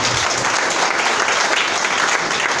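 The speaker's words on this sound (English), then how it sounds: "Can we put our hands together for Jesus?" A church congregation applauds loudly and continuously, a dense wash of many hands clapping together.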